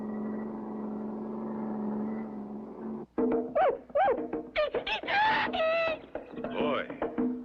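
A car driving in the Clutch Cargo cartoon gives a steady engine drone that cuts off abruptly, then lively cartoon voices and effects take over.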